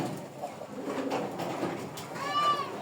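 Golla pigeons coo softly nearby in a low, muffled murmur, with faint background noise and a brief sharper chirping sound near the end.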